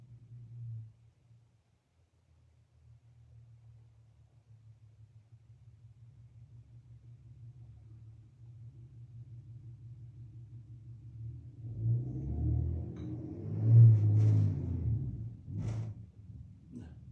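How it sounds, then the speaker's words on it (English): A truck outside rumbles low and steadily, building to a heavier rattling surge with faint knocks near the end, muffled as if heard through a window. "Truck outside rattling windows."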